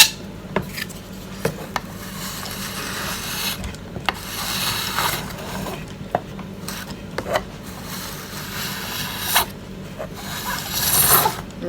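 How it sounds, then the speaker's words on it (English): A metal spatula scrapes chocolate ganache off a cake, producing quiet, close scraping and rubbing with scattered small clicks and taps, with no talk. "Scraping it off with this spatula."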